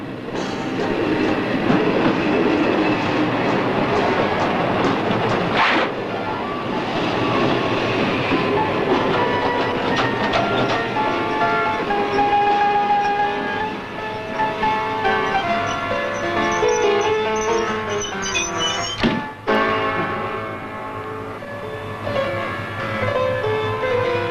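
A train rumbles past with clattering wheels and metallic squeals, loud and close, the noise building and shifting as the cars roll by.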